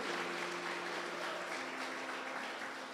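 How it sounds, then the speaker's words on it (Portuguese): Church congregation claps in praise to the Lord, a soft, continuous wash of many hands heard from a distance, with a faint sustained musical tone underneath. "Vamos aplaudir o Senhor."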